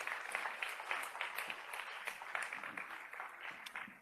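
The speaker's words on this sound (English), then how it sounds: "Maybe a small applause already for the panelists." A conference audience applauds panelists taking the stage at a law enforcement surveillance technology panel, a fairly faint, steady patter of clapping hands from across the room lasting several seconds.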